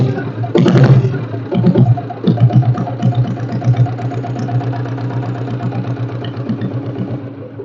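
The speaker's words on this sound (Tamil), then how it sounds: "ஸோ ஸ்லோ ஸ்பீட் ஓடுற பீட் சவுண்ட் கேளுங்க." A vintage Royal Enfield diesel Bullet engine idles at slow speed, a loud close thumping beat with a rev burst at the start before settling into a steady, rhythmic knocking pulse, no talking.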